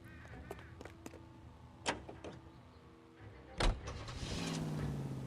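Getting into a car in L.A. Noire, a vintage vehicle such as a Pontiac Torpedo 6 or Chevrolet Fleetmaster 2-door: a few soft handling clicks, a sharp door slam, then the engine starting and idling steadily, all fairly close.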